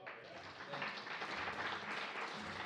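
Audience applause for a band at a concert in Pianos, New York: a short, dense burst of clapping from a modest crowd, steady and fairly close throughout.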